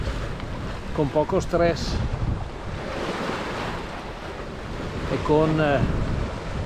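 A sailboat at sea, under a full mainsail and a jib about half out, runs at around five and a half knots. Wind rushes steadily past the microphone over the wash of waves while someone talks.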